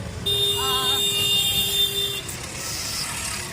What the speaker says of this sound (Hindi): ट्रैफिक को हॉर्न बज रहा था